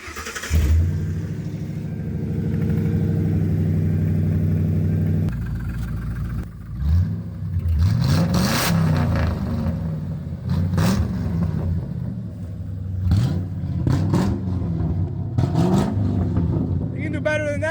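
A Ford Crown Victoria, an ex-Florida Highway Patrol police car, idles nearby, then revs repeatedly in rising and falling bursts. Someone talks over parts of it.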